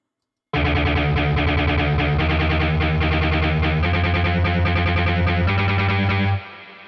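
Heavily distorted industrial metal synth guitar with reverb added, playing KMG7 power chords in Logic Pro. It starts abruptly after a short silence, grinds on loud and continuous, then cuts off into a reverb tail.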